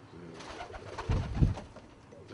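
Old Dutch Capuchine pigeons cooing at home, a few soft low throaty coos rising near the middle over a faint background murmur.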